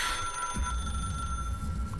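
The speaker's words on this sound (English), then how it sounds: "Now the phone rings." Telephone ringing, a steady bright electronic ring with a sustained tone heard close and moderately loud over low background rumble for about two seconds.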